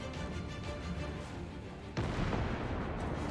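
Grenade detonation in the strategy game Company of Heroes 3, a sudden booming burst about two seconds in, rising out of a constant rumble of distant battle noise and continuing as dull blast echo.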